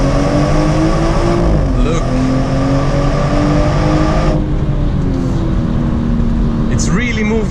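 A 2018 BMW 340i xDrive M-Sport with its stock exhaust accelerates hard from a turbocharged engine, giving a steady, loud engine drone with rising and falling pitch through gear changes, recorded from inside the car while a person speaks briefly.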